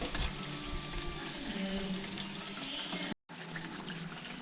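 Papaya snack pieces frying in hot oil, a dense, continuous bubbling sizzle close up with light stirring clatter and a brief dropout near the end.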